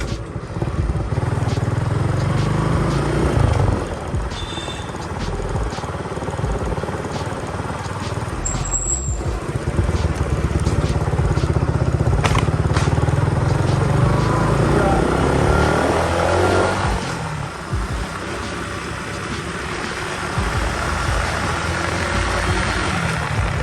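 A 2022 Suzuki Gixxer 155 motorcycle accelerating while ridden, its engine droning loud and continuous with rising and falling revs under heavy wind rush, as a rider talks over it.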